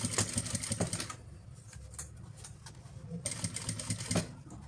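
A sewing machine stitches a seam on a fabric zipper pouch, a steady fast mechanical whirring and ticking at close range, pausing briefly midway before running again.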